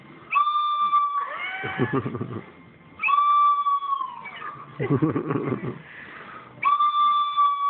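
A shrill toy whistle blows three times in long, wavering tones, with short breathy squeaks and rustling between the blasts.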